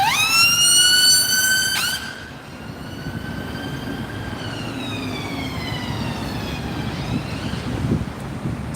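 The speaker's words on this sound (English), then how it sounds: "Let's let the ambulance go past a moment." A loud ambulance siren wails with rising and falling tones as it passes close by on a London street, then fades slightly into steady traffic rumble.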